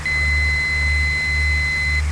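Autopilot disconnect tone in a Flight Simulator X aircraft cockpit, a steady two-pitched electronic beep held for about two seconds over a constant low engine drone.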